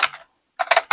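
A computer keyboard gives a few quick close keystroke clicks, a pair, a short gap, then a fast cluster of taps, with no voice.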